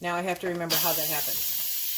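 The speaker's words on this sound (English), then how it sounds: "Now we're going to do the quick release." An Instant Pot vents steam in a loud, sharp hiss on quick release, bursting in after a person speaks and then holding steady to the end.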